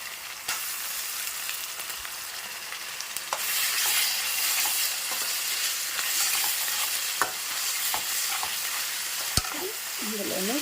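Ginger garlic paste sizzles steadily in a hot pan for an egg curry, a loud continuous frying hiss with a few faint clicks of a spoon stirring, no voices.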